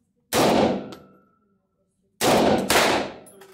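Two sharp, loud gunshots inside an indoor shooting range in Prague, the first alone and the second closely followed by another report, each ringing off into a reverberant tail.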